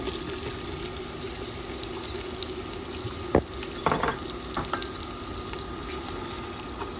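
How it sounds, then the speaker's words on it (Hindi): Finely chopped onion with bay leaves and spices fries in a pan for a Goan mutton stew, making a steady, moderate sizzle broken by a couple of brief scrapes. "अब प्याज को इस मसाले के साथ हमको भूनना है।"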